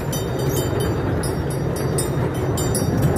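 Small ride train at the Bathou Kherai family resort in Chirang, Assam, pushed by an engine at the rear, rumbles loudly and continuously from on board, with steady rolling noise and rhythmic clattering bursts.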